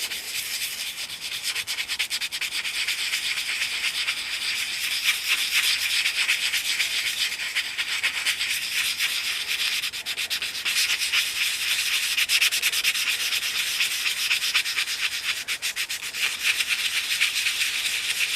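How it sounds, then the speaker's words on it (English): A broken doll is sanded by hand in a steady, continuous close-up rubbing scrape that stays fairly even in loudness throughout, with no voices. "Just going to keep sanding this away."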